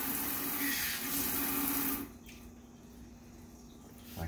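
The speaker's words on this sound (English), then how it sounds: "And give me another little quick rinse." Water rinsing through the group head of a Profitec Pro 700 espresso machine, a loud rushing flow with a pump hum that cuts off abruptly halfway, leaving a quieter low drone.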